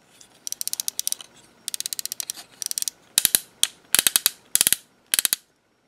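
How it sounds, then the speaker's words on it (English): Ratcheted universal hip joints on a Transformers third-party Seacon Skalor figure click in quick bursts of sharp, close plastic ratchet clicks, several short runs separated by pauses. "We got universal ratcheted universals for hips, and they're great ratchets."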